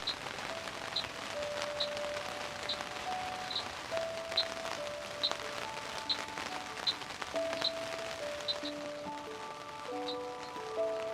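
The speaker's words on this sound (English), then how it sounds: "And it's pouring at the moment" Rain pours steadily on a surface with scattered drips, while faint tonal chimes or bird-like notes sound in the background, at a campsite in the Drakensberg.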